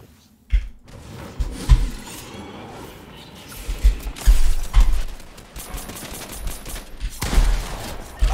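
Gunfire in Fortnite rains on the player in loud, ragged bursts, with impacts and shattering crunches packed into several dense clusters across the clip.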